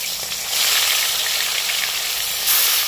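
Koi fish dropped one at a time into fully heated oil, giving a steady bright hiss and sizzle that swells after the first moments and stays close and continuous, with no voices.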